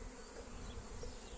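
Honeybees buzz steadily at an open hive, a dense, continuous drone from many bees close by with no talk.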